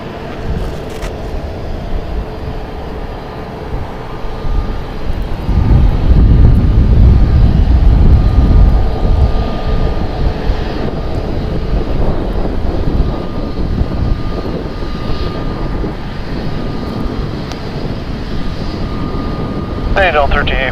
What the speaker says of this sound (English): It's a Boeing 757-200, 31 years old.